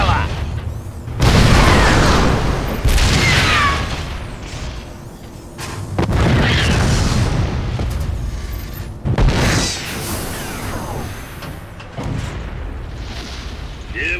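The Tsar Cannon firing in a video game, several heavy booming blasts spaced a few seconds apart, each with a long rumbling tail, with talk in between.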